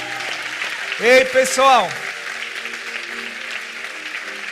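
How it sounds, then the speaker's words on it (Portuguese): A church congregation keeps up steady, moderately loud applause in the background while a voice briefly calls out over it. "Dá aplauso forte aí, hein?"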